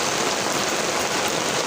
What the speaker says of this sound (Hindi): बारिश की आवाज़ आ रही है